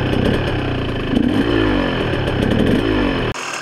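An enduro motorcycle engine runs loud and close on a farm ride, revving up and down in rough rising sweeps before cutting off abruptly near the end.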